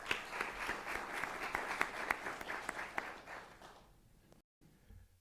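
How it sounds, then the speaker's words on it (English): Audience applause for police officers and firefighters at a city manager's State of the City address, a dense, steady wash of many clapping hands that fades out toward the end. "Let's give them a round of applause."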